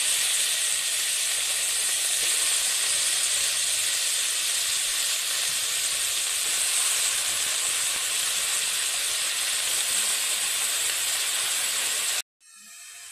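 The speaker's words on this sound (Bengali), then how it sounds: "এইবার কেটে রাখা আলু আর বেগুন ভালোভাবে ধুয়ে জলটা ঝারিয়ে তেলের মধ্যে দিয়ে দেব" Washed potato and eggplant pieces hit hot mustard oil and sizzle in a loud, continuous hiss that holds steady up close before cutting off abruptly near the end.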